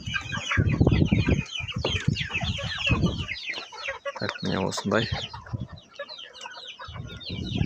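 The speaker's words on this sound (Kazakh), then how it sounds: "Барковский мен Кучинскийдің аралас тауықтары бар" Mixed-breed Barkovsky and Kuchinsky chickens, young birds around three months old in a farmyard, cluck and chatter continuously and fairly close, with a brief voice speaking among them.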